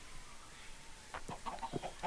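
A video game chicken from a Block Hunt minigame gives a few short, quick clucks near the end of a brief, quiet stretch, fairly close and moderately loud.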